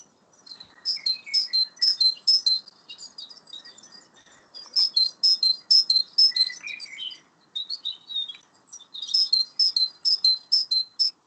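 A recorded great tit sings outdoors in the UK, giving repeated bright, high two-note phrases in quick bursts separated by short pauses, loud and clear over a quiet background, with a few other thin calls mixed in.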